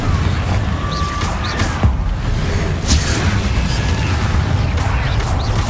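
The Confringo blasting spell in Hogwarts Legacy sounds as a dense, booming rumble of explosive impacts layered with game combat noise. It is loud and continuous, with sharper bursts scattered throughout.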